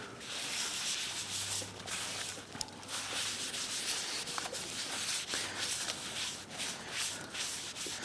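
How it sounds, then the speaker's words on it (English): A gasket scraper rubs and scrapes old gasket material off the perimeter of a Chevrolet S10 rear differential cover, a steady close, gritty scraping that runs continuously with no talk. "I want to make sure we get all of our old gasket material off of the perimeter and clean all that up."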